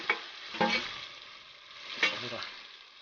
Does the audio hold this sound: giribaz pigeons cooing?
no